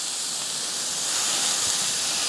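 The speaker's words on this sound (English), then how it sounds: "We're going to add our pork back into our pan." Pork chops sizzle in an apple butter sauce in a pan, a steady bright hiss and crackle that stays loud and close, with no voices over it.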